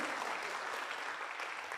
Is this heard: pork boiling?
no